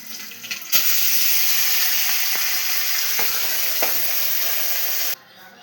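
Small shrimp fritters and fish fry in hot oil, a loud, steady hissing sizzle that starts abruptly, holds for several seconds with a few faint clicks, then cuts off.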